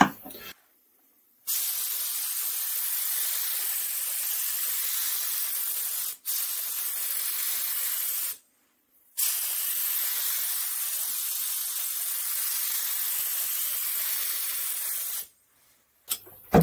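A gravity-fed paint spray gun sprays varnish in three long, steady hissing bursts, loud and close, separated by short silent pauses.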